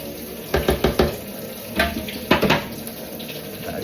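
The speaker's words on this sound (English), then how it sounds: "then I'll fill a washing up bowl" A kitchen tap runs into a washing-up bowl with a steady close hiss of water, broken by a few sharp knocks and clatters of dishes against the sink.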